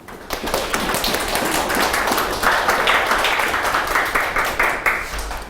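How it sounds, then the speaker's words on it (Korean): Warm applause from an audience at a Korean special lecture as the head of the Wimin Research Institute is welcomed, dense steady clapping with some tapping that runs throughout. "자, 우리 뜨거운 박수로 위민연구원의 김대현 원장님을 모시도록 하겠습니다."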